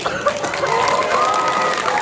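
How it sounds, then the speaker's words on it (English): Audience applause at a Hmong New Year dance event in Ohio, steady clapping from a crowd filling the hall throughout, with faint voices and tonal music lines mixed underneath. "So, round of applause to all you ladies."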